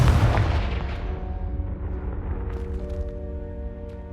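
A fiery Confringo spell explodes in Hogwarts Legacy with a loud, close boom at the start, then trails off into a fading rumble beneath sustained tonal game sounds.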